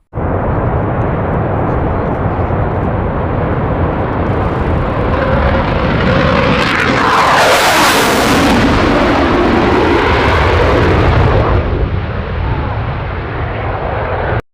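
A Rafale fighter jet roars loud and steady throughout, swelling to a harsh, broadband peak midway as it passes close, then easing back to a sustained rumble.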